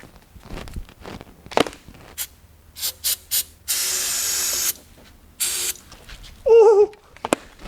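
Starting fluid sprayed from an aerosol can into a car engine's air intake, a few short hissing bursts followed by one long steady spray and another brief burst, close by, with faint clicks and movement between.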